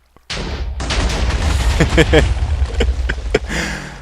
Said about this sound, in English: It's a TNT missile.